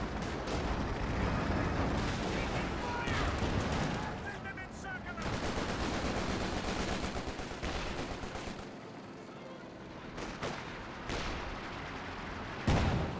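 Battlefield gunfire in Company of Heroes 2, with dense machine-gun bursts, rifle shots and heavier explosive thuds throughout, loud and layered under a caster's commentary.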